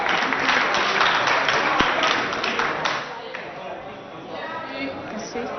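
Applause with cheering fills a crowded hall at a lycée poetry contest in Abéché, welcoming a student from Lycée Mahamat Ourada. It is dense and loud for about three seconds, then thins to a softer murmur of scattered clapping.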